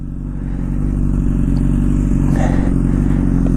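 A 2012 Honda CBR1000RR Fireblade liter-bike engine idles close and loud with a rough, pulsing mechanical clatter, then revs up slightly and holds a steady throaty drone, no voices over it.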